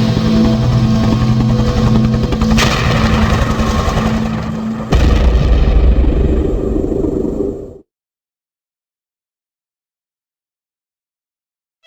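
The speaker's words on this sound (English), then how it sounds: "Oh no, it's shooting us down." Loud, dense rumble of an attacking helicopter in the video game The Smoking Mirror, with booming blasts and gunfire, a sharp explosion midway, then everything cuts out into silence.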